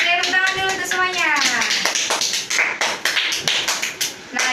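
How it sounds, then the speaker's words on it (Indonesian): A classroom group claps for everyone during a microteaching session: a burst of many overlapping hand claps, fairly close, with a teacher's voice speaking over the start. "Oke, tepuk tangan dulu untuk semuanya."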